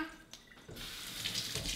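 Tap water runs into a kitchen sink to rinse produce such as banana and apple for a green juice, starting thin and then swelling into a steady, close splashing rush.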